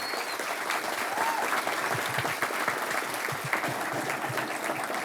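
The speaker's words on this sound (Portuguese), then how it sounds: "uma salva de palmas a vocês" Steady applause from an audience at a nautical congress honoring boat pilots, dense clapping sustained evenly throughout at moderate loudness.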